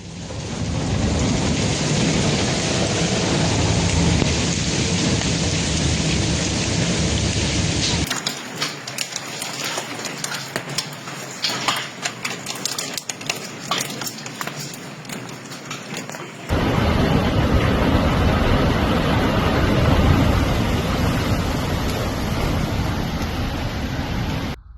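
Heavy thunderstorm in Murcia, Spain with dense, loud rain and hail pounding surfaces and rumbling thunder, the downpour dipping briefly to a crackling patter before roaring back at full strength.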